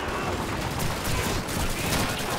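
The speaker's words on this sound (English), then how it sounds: "How is he even firing that gun?" Dense gunfire in the video game Call of Duty 2, a loud sustained barrage of overlapping shots in a World War II battle at Hill 400.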